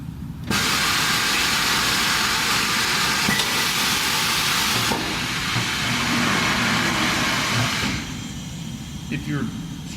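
A Hunter TCX53 tire changer machine runs with a loud, steady mechanical whir and hiss as its press arm pushes a tire into place while it rotates, the drone stopping near the end.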